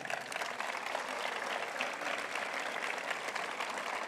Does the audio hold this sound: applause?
yes